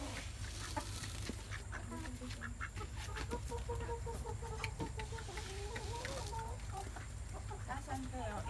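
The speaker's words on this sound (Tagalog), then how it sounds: "Papakain natin ng manok." A flock of backyard chickens clucks and chatters at morning feeding time, several birds close by in a busy overlapping murmur over a steady low background rumble.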